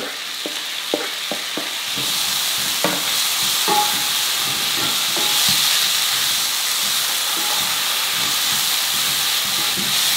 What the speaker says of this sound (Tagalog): Itutuloy lang natin ang pag-isa hanggang sa lumambot na yung kamatis at yung sibuyas ng tuluyan.